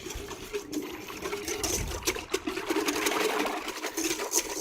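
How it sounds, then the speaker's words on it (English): A hand whisk beats waffle batter with ground ginger, cloves and other spices, giving quick, wet, repetitive clicking and sloshing strokes close by, steady and moderately loud. "Then we take our whisk and we beat."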